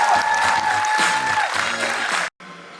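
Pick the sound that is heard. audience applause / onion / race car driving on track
audience applause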